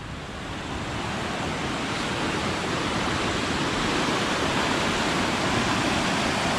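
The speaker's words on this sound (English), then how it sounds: "This is coming from the overflow, and this is going away to the next reservoir" Reservoir overflow water rushing into a river by woodland, a loud steady roar of churning water that holds constant throughout with no voices.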